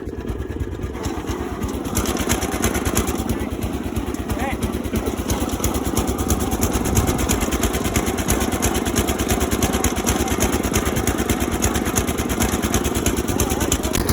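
A small Gilson chairlift engine runs steadily after being put in gear, giving a loud, continuous rapid chugging throb that starts after a brief quieter moment and holds even through the rest.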